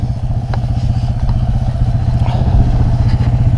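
A Suzuki 400 cc quad bike engine runs at a steady idle, a close, loud, continuous low rumbling throb with faint clatter and no pauses.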